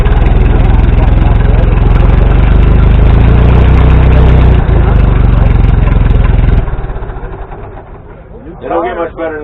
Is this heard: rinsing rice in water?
no